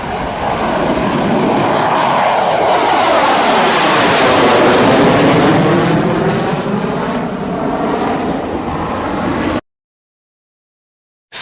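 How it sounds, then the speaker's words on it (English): Military air force aircraft engine roaring loudly and steadily, a sustained jet drone with shifting sweeping tones as it passes, then cutting off abruptly to silence. "Air Force aircraft."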